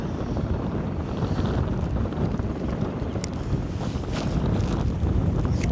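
Steady wind buffets the microphone on a lake during kayak fishing for trout, a continuous loud rush with gusty swells and faint water lapping underneath, no talking.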